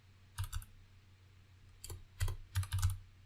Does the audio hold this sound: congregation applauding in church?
no